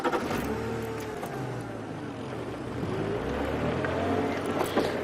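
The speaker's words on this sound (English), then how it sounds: "The tractor." A tractor engine drives ahead on a safari reserve track, a steady, fairly loud motor rumble and whine holding throughout with slight rises in pitch and no talk.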